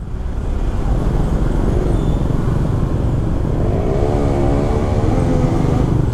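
A motorcycle with a broken exhaust passes on a busy road in Canggu, Bali. Its engine rumble rises loud and rough against steady traffic noise, then a rising whine comes in toward the end. No one speaks.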